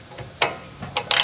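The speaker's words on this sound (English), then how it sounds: "So we have it set up on the torque wrench already." Ratcheting clicks from a torque wrench snugging a sway bar bolt during a leveling kit install on a 2022 Toyota Tundra, with two or three short, close metallic ratchet bursts separated by brief pauses.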